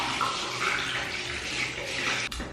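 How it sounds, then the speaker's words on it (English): Running tap water pours steadily while serum is rinsed off a face, a close, continuous splashing stream with a brief clunk near the end; no talking. "Now I'm just gonna rinse that off."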